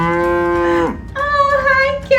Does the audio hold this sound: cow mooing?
yes